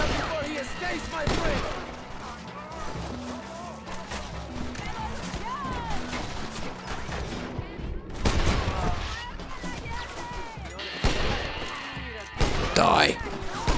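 Gunfire in a Red Dead Redemption shootout against enemies up in towers, with scattered shotgun and rifle blasts breaking through the game's music and effects, while someone talks over the action.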